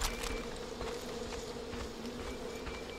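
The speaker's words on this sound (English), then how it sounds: "That sounds like bees." Bees buzz in the video game Far Cry 5 in a low, steady hum, fairly faint, with a few soft clicks and rustles over it.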